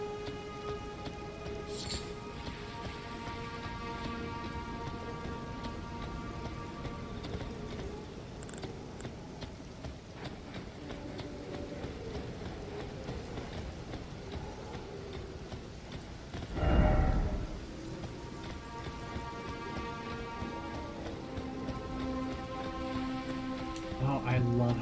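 Rain falling in the video game Elden Ring, a steady patter across surfaces with sparse clip-clop knocks, faint tonal music underneath and a single heavy thump midway.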